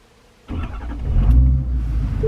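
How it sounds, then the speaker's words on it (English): A Ford truck engine cranks and catches, then settles into a low, steady idle close by, with no talking. "I'm going to start the truck."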